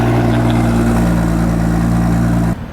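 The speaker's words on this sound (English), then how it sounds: "That is aggressive sounding, isn't it? I wasn't expecting that out of a standard exhaust." A BMW M2 with its standard exhaust growls loudly at close range, a strong, steady engine note that holds for a couple of seconds before cutting off abruptly near the end.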